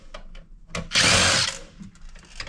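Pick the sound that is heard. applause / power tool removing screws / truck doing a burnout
power tool removing screws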